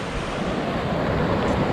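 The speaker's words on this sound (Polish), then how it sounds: "Jesteśmy na skraju wodospadu." A large waterfall in Brazil roars as a loud, continuous broadband rush, steady and unbroken throughout, with no voices.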